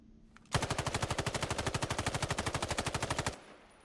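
MK-18 rifle in the battle royale video game Islands of Nyne fires one sustained, rapid automatic burst of about three seconds, loud and close, with evenly spaced shots, then falls silent.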